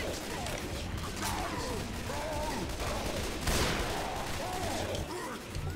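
Gunfire in Left 4 Dead 2 as players shoot at a Tank, heard as dense, rapid overlapping bursts with game clutter and faint voices mixed in, peaking in a louder volley near the middle.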